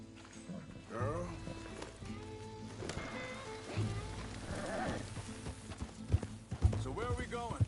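Horse hooves clip-clop in Red Dead Redemption 2 as riders travel, a steady walking rhythm under game music and dialogue, with occasional louder thumps.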